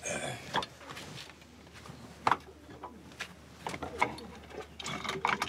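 A traditional Mauritanian lock worked open with its key, giving a series of faint, sharp metallic clicks and ratcheting snaps spread across a quiet room tone, with no talking.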